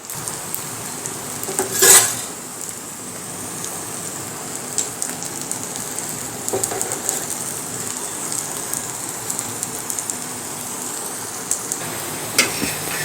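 Moringa leaf thalipeeth roasting on an oiled griddle over a medium gas flame gives a steady, soft crackling sizzle throughout, with a brief louder scrape or stir near the start and scattered small pops.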